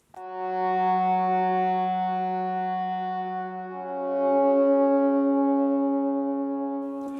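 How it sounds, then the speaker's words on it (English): A synthesized cello sound holds two long, smooth bowed notes in sequence, rich and steady, played alone with slight echo. "I had a cello as well."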